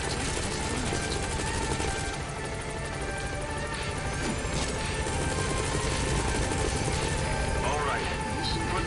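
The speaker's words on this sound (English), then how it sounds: "Support helicopter has arrived." A support helicopter in Metal Gear Solid V drones loudly and steadily, its rotor wash filling the whole stretch alongside game sound and faint voices.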